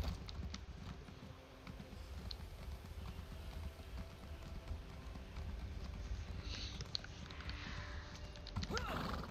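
A horse mount gallops in the video game Elder Scrolls Online, a steady rapid patter of hoofbeats running on without pause and with no voices.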